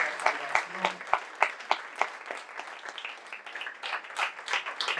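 A church congregation applauding during a service, a fairly faint wash of many hands clapping with distinct rhythmic claps standing out, and a voice briefly heard at the start.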